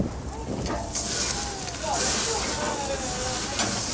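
A steak sizzles and hisses in a hot pan outdoors as it is flipped, a steady frying crackle with a brief scrape, moderately close and continuous over light wind.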